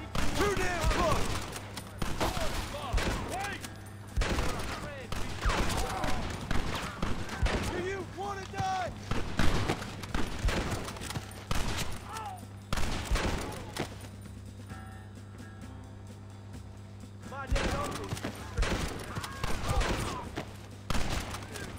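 Gunfire rattles through a gate assault in Red Dead Redemption, shots crackling in irregular bursts near and far under frequent shouted voices, with a steady low hum beneath and a brief lull midway.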